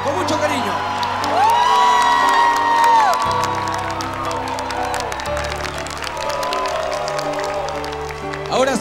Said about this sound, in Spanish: les pido un fuerte aplauso para la sirena de la cumbia nuevamente